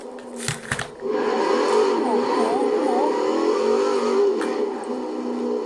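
A V8 car engine in Forza Horizon 4 is held at full throttle, a loud sustained roar with shifting pitch after a brief burst of clatter at the start, no voices.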